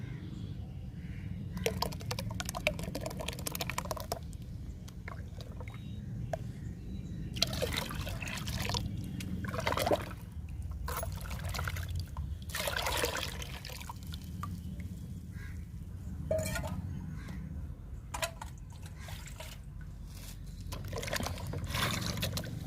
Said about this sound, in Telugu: ఈ పేస్ట్ని వాటర్లో డైల్యూట్ చేసుకుందాము